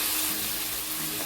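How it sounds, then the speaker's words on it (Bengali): Spice paste with a splash of water fries in a pan for a hilsa, taro and eggplant curry, giving a brief, steady sizzling hiss close by. "সামান্য একটু জল অ্যাড করছি, মশলাটা ভালোভাবে কষিয়ে নিচ্ছি।"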